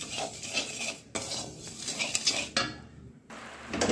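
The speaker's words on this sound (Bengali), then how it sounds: "চিনিটা যতক্ষণ না গুলে যাবে ততক্ষণ আমি একটু নাড়াচাড়া করে নেব" A spoon stirs sugar into hot water in a pot on a high gas flame while making coconut puli pitha, giving continuous scraping and clinking of metal against the pot with short pauses.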